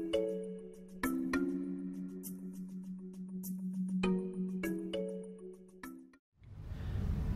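A phone rings out unanswered, its tone repeating in steady bursts about once a second over a low hum, then cutting off near the end and giving way to a brief rush of background noise.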